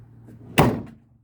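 A car latch closes with a single solid thunk and a brief metallic click, close by and fading out quickly.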